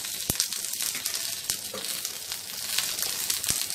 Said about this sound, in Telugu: ఇవి వేగిన తర్వాత కరివేపాకు, పచ్చిమిరపకాయ ముక్కలు,